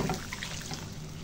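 Water poured into a pot of chicken soup made with an old hen, a steady continuous splash and trickle close by with no talking.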